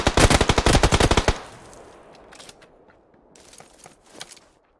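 Rapid automatic gunfire from a video game bursts loudly in a quick string of shots, then fades into quieter ambient game noise with a few faint distant pops.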